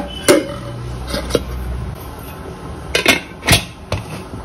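A vessel of lemons is set down inside a pressure cooker holding a little water, giving several close metallic clanks and knocks at irregular moments, with no talking.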